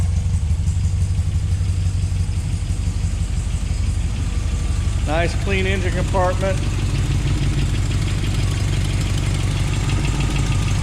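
A 1976 MG MGB idles with a deep, steady rumble through its stainless steel exhaust, running evenly and close, while someone talks briefly over it.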